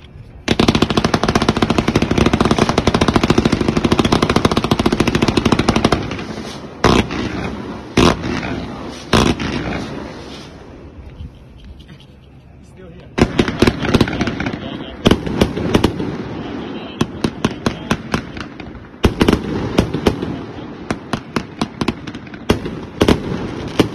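Four compound fireworks cakes fused together fire a 222-shot 1.4G consumer barrage: a dense continuous roar of launches, a brief pause between cakes, then rapid sharp cracking bursts in quick rhythmic volleys, loud and close.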